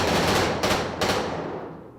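Gunfire from the film Kill Bill Volume 2: a loud, close burst with two sharp reports ringing out into a long echoing tail, no voices over it.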